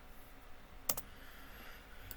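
A computer mouse clicks in a quiet room while shapes are edited in diagramming software: one sharp click near the middle and another faint click toward the end, both short and close against low background hiss.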